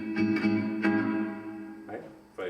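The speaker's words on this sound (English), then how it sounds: "So it's supposed to sound like a concert hall." Electric guitar played through a Holy Grail Plus pedal set to hall reverb, a few plucked notes and chords ringing out with a long, spacious concert-hall tail, close and moderately quiet.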